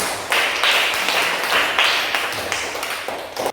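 A classroom of schoolchildren claps together in a steady burst of applause lasting a few seconds, fairly loud and close, with no one speaking over it.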